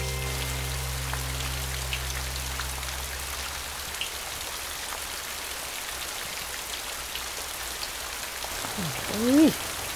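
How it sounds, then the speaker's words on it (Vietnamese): Heavy, persistent rain pours steadily in a dense, even wash of drops, with a brief rising tonal sound near the end. "Tại vì cái mưa này dai lắm."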